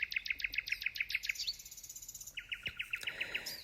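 Small birds chirp in quick, evenly repeated bursts of sharp high notes along the Yindyamarra Sculpture Walk, fairly close and steady with a soft background hiss.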